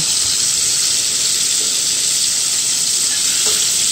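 Shrimp for shrimp scampi sizzles in a pan with a loud, steady, close hiss of frying, continuous and without talk.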